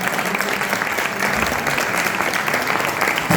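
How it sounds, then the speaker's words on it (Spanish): Dense, steady applause from an audience honoring round table speakers, sustained and loud throughout with no pauses. "os pido un fuerte aplauso para todos ellos"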